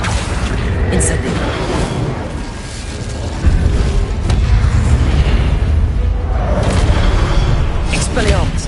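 Incendio fire spell blasts in Hogwarts Legacy gameplay: loud, continuous booming bursts and crackling explosions roll through a dense wash of combat noise, with a voice speaking over the top.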